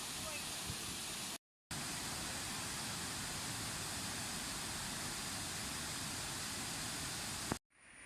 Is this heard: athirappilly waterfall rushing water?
yes